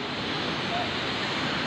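Steady broadband rush of water pouring down Sabsaban Falls, a continuous loud roar with no breaks, close and filling the whole scene.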